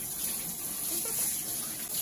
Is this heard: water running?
yes